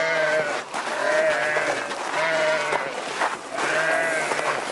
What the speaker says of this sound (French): il a des chèvres et des moutons